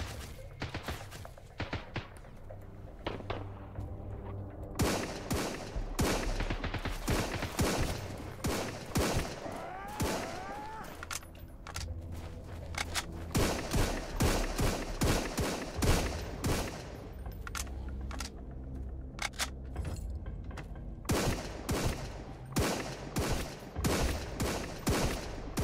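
SMG fire in the Sunkenland video game rattles in repeated rapid bursts, loud and close, with short gaps between volleys across the whole stretch.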